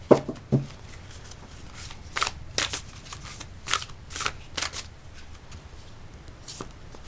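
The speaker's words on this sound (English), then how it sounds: "let's get a card from the Great Eastern Oracle" Oracle cards are shuffled close up in a quiet room, a run of irregular crisp riffling and slapping bursts with short pauses between.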